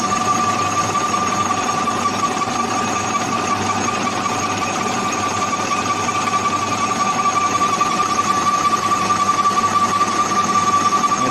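A metal lathe cuts a fairly soft steel part for a homemade garlic harvester, producing a continuous loud mechanical whine and hum with a steady tonal drone throughout and no talking.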